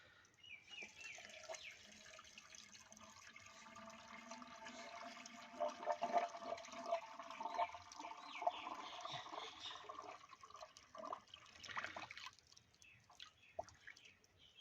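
Water pours and gurgles into a Suzuki Bolan's radiator after coolant, a faint continuous splashing trickle with swelling bursts and sputters, close and quiet, with no talk.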